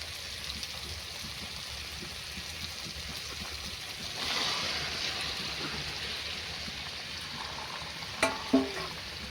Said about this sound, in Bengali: এবার দিয়ে দেবো তোমার ম্যারিনেট করা চিকেনটাকে পুরোটা।